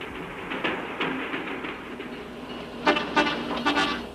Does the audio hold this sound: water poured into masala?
no